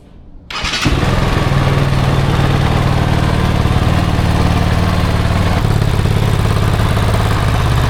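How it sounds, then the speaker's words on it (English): A Kove 450 Rally motorcycle engine fires up after a brief quiet moment and settles into a loud, steady idle close by, droning on without pause and with no voices. "you can start the engine."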